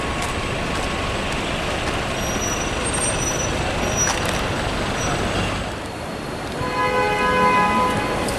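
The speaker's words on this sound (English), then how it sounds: "Some more buses go to Clapham Common and Deptford Bridge." London buses on Regent Street grumble past in heavy traffic. Short hissing air-brake releases and squeals cut through the steady road roar, and a brief lull is followed by rising engine noise as a bus pulls away.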